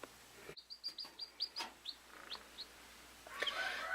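A newly hatched chick peeps in a string of about a dozen high, bright, evenly spaced calls, close and clear against a quiet background, with a faint rustle near the end.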